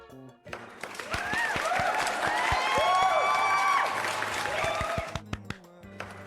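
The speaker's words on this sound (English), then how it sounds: "Where's the applause?" A recorded crowd breaks into applause and cheering with whistles, swelling for a few seconds before fading.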